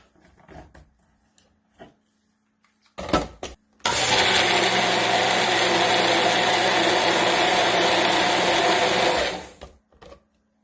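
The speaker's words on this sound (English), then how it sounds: "Let's blend this up." A blender whirs loudly and steadily for about five seconds, mixing bulletproof butter coffee, after a couple of short pulses and amid quiet kitchen clatter before and after.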